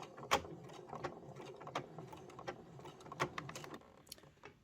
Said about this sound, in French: Je vais les coudre au point droit